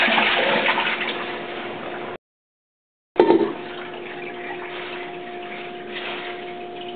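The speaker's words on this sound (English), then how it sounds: "Just gonna hold your arm over them and pour all this out." Water poured from a container over a batch of kale greens to rinse them, a steady close splashing stream that cuts off for about a second and then resumes, with no talking.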